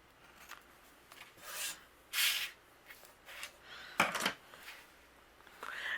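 Overhanging paper is trimmed away from the edges of a handmade greeting card, producing faint, close rasping cuts and rubs in short separate bursts.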